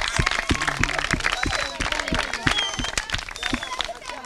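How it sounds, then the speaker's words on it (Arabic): An audience claps in dense, fast applause at a prize ceremony for a game show, loud and close, with voices talking and cheering over it throughout. "تصفيق يا شباب تصفيق"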